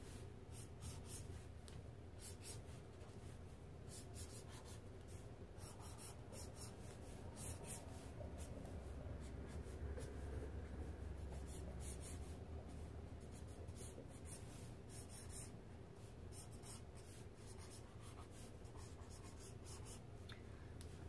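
A marker sketches on paper during a figure-drawing demonstration, making a continuous close, soft scratching and rubbing of strokes that runs steadily throughout without talk.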